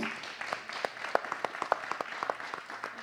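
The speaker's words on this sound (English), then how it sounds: "Can we clap that out?" A seminar audience claps in a steady patter of applause, a crowd of hands clapping together for a few seconds with a faint murmur underneath.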